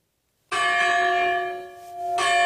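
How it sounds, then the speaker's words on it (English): A church bell in Williamsburg, Virginia, is struck once and rings out with a bright, sustained metallic tone, then is struck again near the end as the hum swells back up, with no talk. "I ring the bell for my 97-year-old grandmother and my ancestors"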